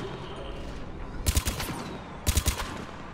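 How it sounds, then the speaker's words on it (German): Gunfire in Mass Effect 3 as enemies are shot from behind: two short bursts of several sharp shots each, the second a little louder, standing out over a steady low game ambience. "Feinden von hinten in den Rücken zu schießen"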